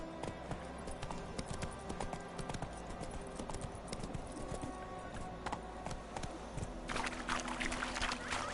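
Hooves of the horse Roach clip-clop in a steady galloping rhythm through a video game scene, close and continuous, with a faint voice in the background.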